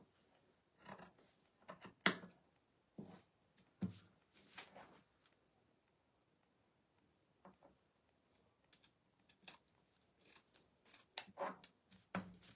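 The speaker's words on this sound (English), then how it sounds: "what we're gonna do is cut it right along the edge without cutting the pillow" Scissors snip through fabric along the edge of a pillow cover in irregular bursts of short, crisp cuts, close by with quiet pauses between.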